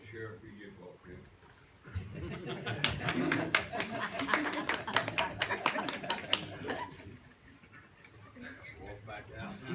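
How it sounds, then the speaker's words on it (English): Attendees at a Levy County Commission meeting stand and applaud the sheriff, a burst of sharp, fairly close clapping that starts a couple of seconds in and fades after a few seconds, with chuckles and murmured talk around it. "Y'all will stand and applaud the sheriff who just walked in."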